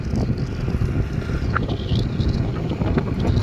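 Wind rushes steadily past the microphone while riding a scooter on a sunny road, a loud, constant blustery roar with no voices.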